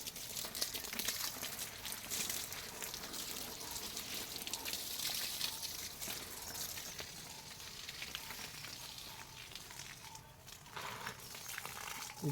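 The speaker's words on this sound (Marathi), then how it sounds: "अंगणात फुलझाडांना पाणी घालायला" Steady splashing of water poured onto flowering plants in a courtyard runs throughout, a continuous hiss-like wash with a few brief louder surges, fairly close.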